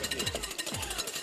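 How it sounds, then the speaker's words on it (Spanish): Egg whites whisked by hand in a bowl, a quick rhythmic scraping and ticking of the whisk repeating several times in close succession. "La idea es agarrar unas claras y batirlas un poquito."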